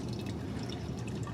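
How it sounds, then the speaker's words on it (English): Homemade oat milk poured into a glass, a soft, close liquid trickle with light dripping that runs steadily without a break, with no voices over it. "And then you get to pour yourself a cold glass of fresh oat milk."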